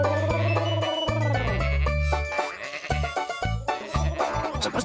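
Sheep bleat loudly, several wavering calls in quick succession with stacked harmonics, close and clear with no talk over them.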